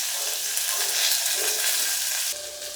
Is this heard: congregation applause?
no